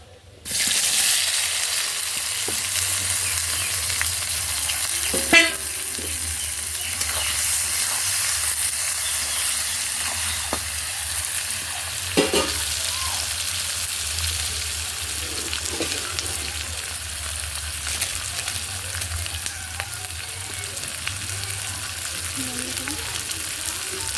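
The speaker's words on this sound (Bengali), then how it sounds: "তেলের ওপর পেঁয়াজগুলো দিয়ে দেবো, ভালো করে ভেজে নেব।" Onions frying in oil in a kadai give a continuous bright sizzle and hiss, close and steady, with a few soft clinks of stirring scattered through.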